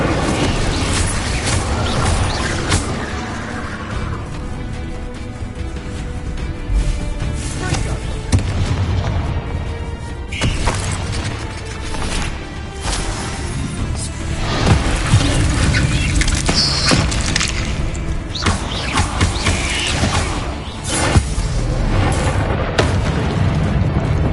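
Incendio fire spells blast in Hogwarts Legacy on PS5: a dense, continuous run of booming, crackling fiery bursts with sharp louder hits scattered throughout, close and loud.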